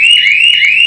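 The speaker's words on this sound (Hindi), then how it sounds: "एक जोरदार सा सायरन बजना शुरू हो जाता है" A motorbike anti-theft security alarm sounds a loud, continuous electronic siren with a steady, slightly wavering high tone, close and alone without any talk.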